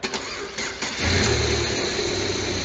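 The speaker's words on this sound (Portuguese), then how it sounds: "o aterramento ficou tão fraco que tá difícil de pegar o carro" A car with a weak ground connection cranks with uneven, stuttering starter pulses for about a second, then the engine catches and settles into a steady, loud idle rumble, close by and without speech.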